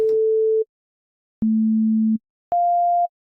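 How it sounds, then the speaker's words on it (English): Three pure electronic tones play one after another, each held about half a second or longer at different pitches, separated by silence. "I'm just going to be putting sine waves through it."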